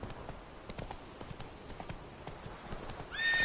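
Roach, a horse in a video game, gallops with rapid rhythmic hoof clip-clops at moderate volume, ending in a brief whinny.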